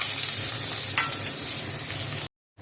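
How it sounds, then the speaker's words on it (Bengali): Onion hits hot oil in a wok, raising a loud, dense, continuous sizzle up close before it cuts off abruptly near the end. "প্রথমে পেঁয়াজটা দেবো, পেঁয়াজটা একটু ভেজে তারপরে মশলাগুলো দেবো"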